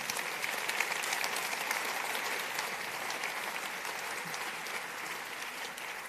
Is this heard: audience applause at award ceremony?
yes